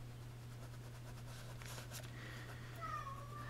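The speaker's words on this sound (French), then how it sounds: "Oui, mon petit chat." A sad pet cat gives a couple of faint meows at the end of a quiet indoor room tone with a constant low hum.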